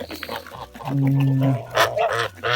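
Kholmogory geese honking nearby, a loud sustained nasal honk followed by several shorter calls from the flock.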